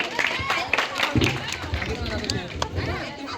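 Audience members clap at a Marathi home game-show event, bursts of hand claps mixed with crowd chatter and a host's voice speaking over them.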